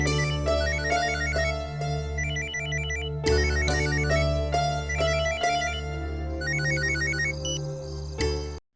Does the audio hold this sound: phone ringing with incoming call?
yes